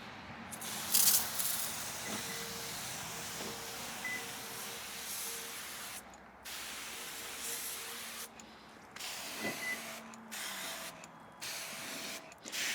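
A pressurized keg sprayer mists pre-spray of Bioworx rinseless wash over a car in a steady, continuous hiss, close and alone, with brief breaks where the trigger is released.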